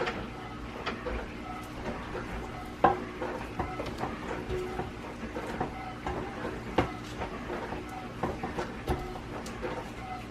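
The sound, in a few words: spatula scraping the sides of a mixing bowl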